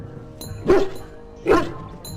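A dog in the Dragon Age Origins video game barks excitedly, two loud close woofs about a second apart over a quiet game background.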